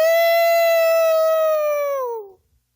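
A man imitates a wolf howl with his voice, one long, loud, steady tone that slowly sinks in pitch before cutting off abruptly, heard alone.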